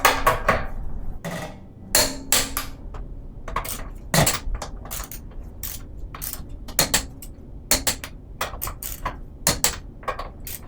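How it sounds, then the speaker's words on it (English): A torque wrench tightens wheel lug nuts in a star pattern during a tire rotation, giving a series of sharp metallic clicks and clanks in uneven bursts, close and fairly loud, with no talk. "Here's the torque wrench. I'm going to tighten these in a star pattern."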